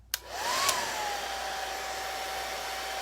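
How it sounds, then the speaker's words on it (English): A blow dryer switches on with a click and blows a steady, loud whirring rush of air, set to heat, drying water-based paint on a craft piece. "The trick to a blow dryer is it's not the air, it's the heat, so don't do it on cool."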